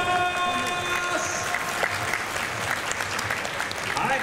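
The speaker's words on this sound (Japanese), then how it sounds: "手拍子応援でドームでも盛り上げていきましょう。" Crowd at a Tokyo Dome baseball game clapping along in a cheer, a dense ongoing rattle of hands across the stands, with a brief tone at the start and voices mixed in.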